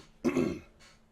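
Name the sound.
throat clearing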